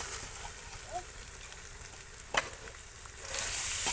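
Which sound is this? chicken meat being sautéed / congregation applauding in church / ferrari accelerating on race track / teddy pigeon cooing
chicken meat being sautéed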